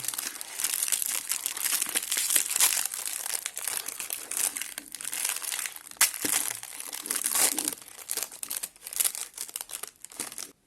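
Crinkly plastic wrapper of an Oreo Double Fun biscuit pack being torn open and handled, a close run of sharp crackling and rustling bursts for about ten seconds.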